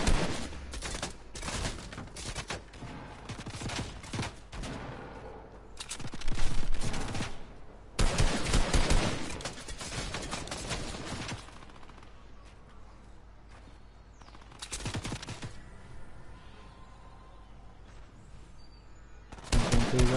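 Video game gunfire comes in rapid bursts and automatic volleys, loud and near in places, with quieter stretches between the exchanges.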